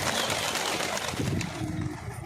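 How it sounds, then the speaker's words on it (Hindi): Pigeons cooing in a crowded loft housing hundreds of male red check and Hyderabadi birds, a dense steady murmur of soft calls with faint wing flutters throughout. "और देख सकते हैं आप कबूतर 400-450 कबूतर है"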